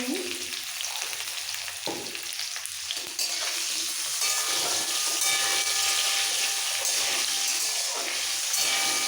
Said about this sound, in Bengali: আলু দেওয়া হচ্ছে একটু তেলের মধ্যে